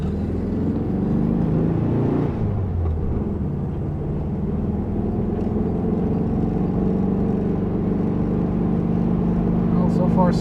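Steady road traffic rumbles past a 1972 Volkswagen Super Beetle on the road, a continuous low engine and tire drone with swelling passes, and a voice talking over it.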